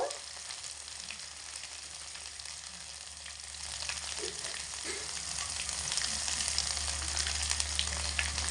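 Turmeric and red chili powder frying in a pan with oil, a steady close sizzle with faint stirring scrapes, growing slightly louder toward the end, no talk.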